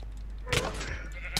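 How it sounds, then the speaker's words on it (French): Sheep bleating in a parkour map of a video game, one short bleat followed by a brief second one, heard faintly over a background hum. "Oh, t'as vu, il y a un mouton."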